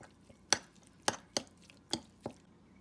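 Ground beef is worked together with cornstarch and light soy sauce in a bowl. About five separate wet, squishy slaps and clacks come at an uneven pace, close by and with nothing else around them.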